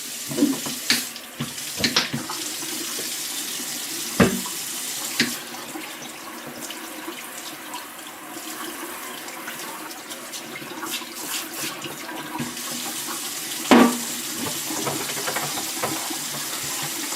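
Water runs steadily from a faucet over a rusty griddle being rinsed, a continuous close splashing stream with occasional knocks and clanks as the metal is handled under the tap.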